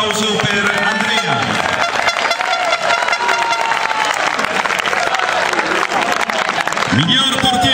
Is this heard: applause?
yes